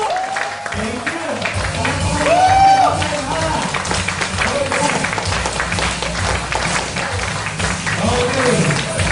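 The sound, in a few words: audience applause welcoming the guest speaker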